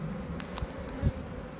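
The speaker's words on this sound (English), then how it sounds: "The bees are their normal, amenable selves" Honeybees buzzing around their hive on a warm day, a steady close hum with individual bees passing near.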